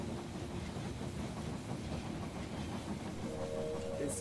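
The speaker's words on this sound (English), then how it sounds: "The train has arrived at the station." A train pulls into a station in a video game, a constant rumbling clatter of rail cars with a hissing steam-like tone near the end, heard with no talking.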